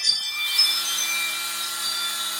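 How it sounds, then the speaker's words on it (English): A steady, loud power-sanding whine grinds continuously against a metal part while sanding off its powder coat, with a sustained tonal hum underneath and no speech. "We're just sanding off this powder coat."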